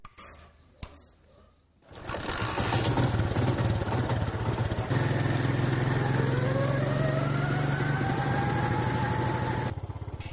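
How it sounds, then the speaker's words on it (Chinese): A rubber tapper's motorcycle starts up on a hillside plantation road, then runs at a loud, steady, close-up chugging idle that holds for several seconds with a slight change in pitch partway through. "收拾好行头，骑上摩托车赶赴自己的岗位。"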